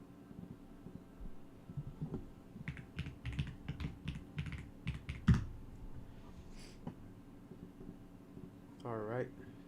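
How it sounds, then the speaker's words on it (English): Keyboard typing in irregular bursts of clicks, moderately close and soft over a low steady hum, with brief louder keystrokes and speech elsewhere in the recording. "I had no idea you could hear my keyboard."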